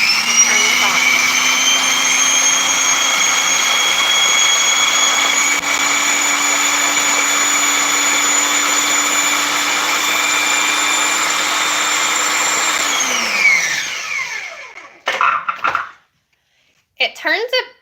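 A countertop blender whirs loudly and steadily, mixing mayonnaise dressing with green onion, then winds down and stops, followed by a few brief knocks.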